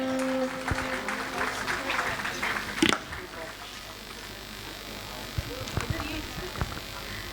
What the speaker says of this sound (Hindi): जोरदार तालियों के साथ स्वागत करें डॉक्टर प्रदीप कुमार सिन्हा का